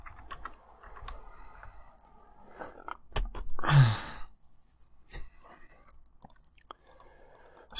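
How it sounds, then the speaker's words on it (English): Rapid keyboard typing clatters close by in irregular bursts, with a loud breathy sigh in the middle and a few sharper clicks afterward. "I gotta stop using my keyboard."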